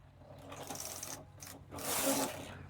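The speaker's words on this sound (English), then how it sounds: "I'm going to, knit 1 row down to the other shoulder side." A knitting machine carriage slides across the needle bed knitting one row of a baby sweater, a rasping mechanical swish that builds and fades in two passes, close and moderately loud, with no talking.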